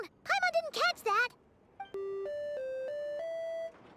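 Musical ringtone chime from a device in Genshin Impact, a series of clear sustained electronic tones stepping up and down in pitch, following brief bursts of speech.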